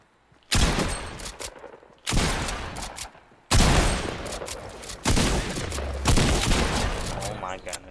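Shotgun blasts from the Fortnite video game boom in several loud, closely spaced bursts separated by brief pauses, sharp and punchy in the foreground.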